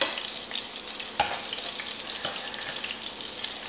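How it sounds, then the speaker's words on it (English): Shrimp fry in hot oil, giving a close, continuous crackling sizzle with a few sharper pops, heard alone without talking. "QCR, you're making the best fried shrimp out here."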